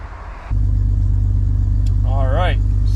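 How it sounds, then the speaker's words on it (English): A Jeep Grand Cherokee ZJ with the 4.0 engine cranks briefly and fires, then settles into a steady, loud low idle rumble close by, with a short squeal or whine near the end. "So let's start the truck up."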